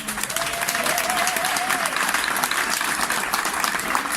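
A festival audience gives sustained, dense applause for volunteers at an opening ceremony, steady and loud throughout, with a faint voice briefly audible beneath the clapping.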